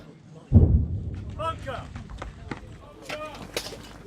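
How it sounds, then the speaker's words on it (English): A heavy artillery shell explosion booms nearby, followed by a lingering rumble while voices talk and shout over the aftermath. "the sound of explosions send us running for cover. Artillery shells land close by"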